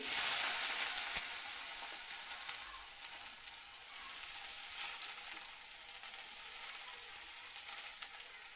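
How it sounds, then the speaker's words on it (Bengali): Chopped onions fry in oil in a wok (kadai) for a Bengali mustard jute-leaf dish, giving a steady, close, even sizzle that fades slightly and carries no talk. "কড়াইতে তেল আছে ভাজা করা আর তেল দিতে লাগবো না এবার দিয়ে দিলাম পেঁয়াজ কুচি"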